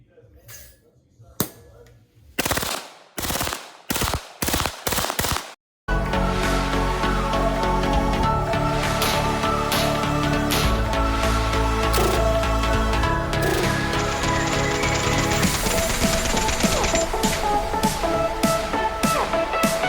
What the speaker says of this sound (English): Compressed air dry firing system.